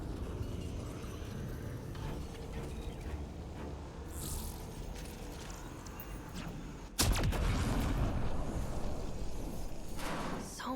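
A hacked turret firing in the video game Mass Effect Andromeda, heavy booming shots over a rumbling battle backdrop, with one loud close blast midway followed by continued sustained fire.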